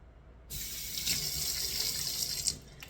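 A tap runs steadily into a sink during a surgical hand scrub, starting abruptly after a short silence and continuing as an even, close splashing stream.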